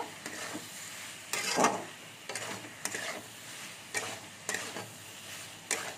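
Pointed gourd and potato chunks being stir-fried in oil-rich spice paste, with a steady close sizzle broken by about six scraping, stirring bursts at irregular intervals; no voices.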